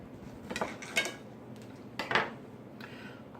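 Cutlery clatters in a drawer as a knife for slicing pork is fetched, giving a few light, close metallic rattles and clinks spaced over a few seconds, with no talk.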